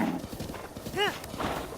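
Horse galloping in the video game The Legend of Zelda: Breath of the Wild, with rhythmic clip-clop hoofbeats under a sharp whinny midway and game sounds over a steady background.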